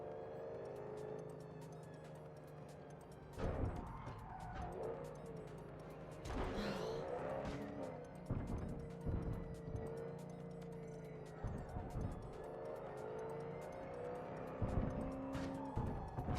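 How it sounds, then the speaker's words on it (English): Suspension thuds and clunks from a Badlands car in Cyberpunk 2077 as it bottoms out on rough streets, heavy low knocks recurring irregularly over a continuous engine and road drone, with tire noise between impacts. "You can hear the shocks of this Badlands car just bottoming out."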